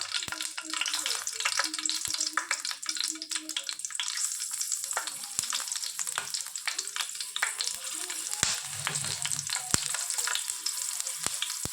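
Chilies fry in hot oil on a stove, a bright, steady sizzle with crackles and occasional sharp pops and stirring clicks, close and continuous with no talking.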